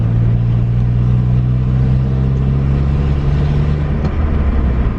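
A cheap, oil-smelling 2001 Honda Civic engine pulls steadily under acceleration at around 40 mph, a constant low drone with road noise heard from inside the car, loud and unbroken throughout with no talking.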